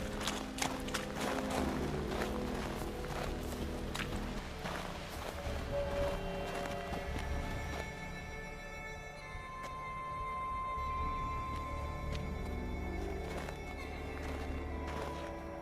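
A horse in The Witcher 3 gallops with rapid clip-clop hoofbeats, then lets out a neigh, while game music and ambient tones play underneath.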